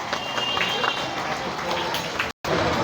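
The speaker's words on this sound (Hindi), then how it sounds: "तो सब जोरदार तालियां बजाते रहिए मैम के लिए" An audience at a book release event applauds the author with loud, dense, continuous clapping that fills the room, broken by a very short gap near the end.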